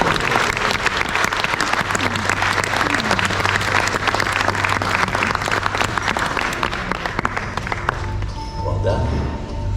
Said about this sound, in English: Keep that applause going, you guys.